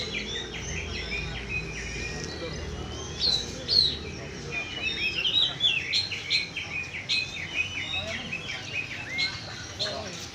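A caged oriental magpie-robin (kacer) sings at a bird-training venue, delivering bright, rapid, varied phrases that grow busier midway, over a steady outdoor background with insect-like buzzing and faint voices.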